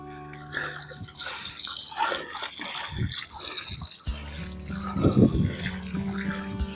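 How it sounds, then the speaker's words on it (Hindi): Water pours from a homemade plant shower onto a freshly planted sapling, a steady gushing and splattering at close range with irregular splashes. "अब मैं अपने इसे होममेड प्लांट शावर से इसे पानी देता हूँ।"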